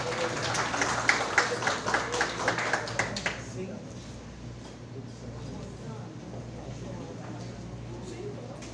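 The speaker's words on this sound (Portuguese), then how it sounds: "Uma salva de palmas para ela." An audience at a poetry congress claps enthusiastically for a storyteller, a dense burst of applause lasting about three seconds before fading into room murmur and low hum.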